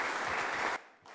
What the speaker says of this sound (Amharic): እልልታ፣ ጭብጨባ፣ ክብር ይገባዋል፣ ይገባዋል።